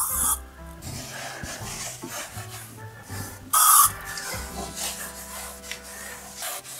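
Cloth rubbing furniture polish across household shelves, a soft repeated wiping and rasping close by, with a brief louder spray-like burst partway through.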